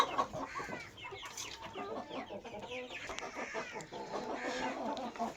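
A bulk-sale flock of roosters and hens, birds of about one and a half to two kilograms each, clucks and chatters continuously. It sounds fairly faint, with overlapping calls and no voices.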